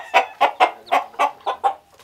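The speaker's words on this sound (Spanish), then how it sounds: "En su finca, Maicon Rincón tiene alrededor de 40 gallos." Fighting roosters on a farm clucking and calling in a quick series of seven or so loud, close, rhythmic bursts, with no talking over them.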